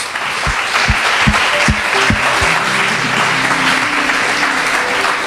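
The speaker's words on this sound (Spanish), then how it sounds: "Den un aplauso a Dios." Strong sustained applause from a large church congregation during a Spanish-language sermon, dense clapping throughout with a few low thumps near the start.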